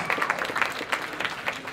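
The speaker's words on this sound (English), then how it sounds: "Let's have a big round of applause." An audience breaks into a short burst of dense applause, many hands clapping at once. It is fairly quiet and heard alone.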